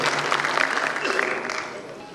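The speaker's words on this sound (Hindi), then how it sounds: "जोरदार तालियों में" An audience at a kavi sammelan and mushaira poetry gathering applauds with dense clapping that fades slightly, and a voice is heard along with it.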